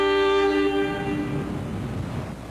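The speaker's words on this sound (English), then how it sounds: "For decades, these orange trains have squeaked and squealed overhead through colorful neighborhoods" An MBTA Orange Line elevated train passes with a loud, sustained metallic squeal of high tones over a rumbling roar, close by, the squeal fading slightly as the rumble carries on.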